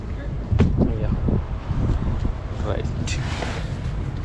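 Wind rushing in through a broken window of a moving bus, heard as a loud low buffeting roar mixed with engine rumble and some indistinct voices.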